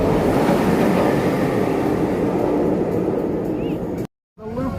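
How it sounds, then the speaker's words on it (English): Dominator, a B&M floorless roller coaster at Kings Dominion, once at Geauga Lake, rumbles past with a loud continuous roar of wheels on track, then cuts off abruptly into a brief silence before fainter sounds return. "you come to Dominator, a B&M floorless coaster transplanted from Geauga Lake."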